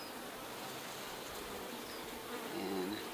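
Honey bees buzz around an opened hive, a faint continuous hum with a few individual bees droning closer near the end, no talking.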